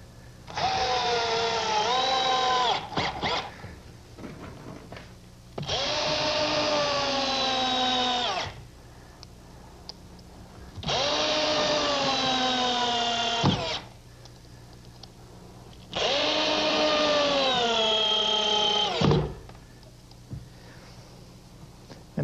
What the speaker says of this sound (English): Now the screws I'm using are two and a half inch bugle head screws and they're galvanized.